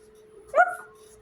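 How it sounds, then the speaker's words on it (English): A pet dog gives a single short bark blending into a whimper, close and moderately loud against a quiet indoor room with a steady low hum. "this is my dog"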